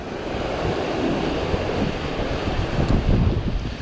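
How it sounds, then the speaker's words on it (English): Strong, steady wind buffets the microphone outdoors during a fishing session, a continuous broadband roar with gusts swelling louder near the end and no voices. "that wind's really picked up"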